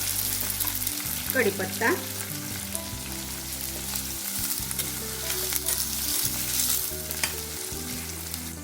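Sliced onion sizzles and crackles steadily in hot oil in a pan, cooking toward medium for a chana dal zunka, with brief stirring scrapes and a short spoken word over the constant frying.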